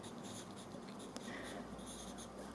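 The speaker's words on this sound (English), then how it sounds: "I hope you're okay with it that I'm writing it down with my hand." A graphite pencil scratching across paper in continuous hand-drawn strokes, close and steady, used for shading a portrait, with no talking.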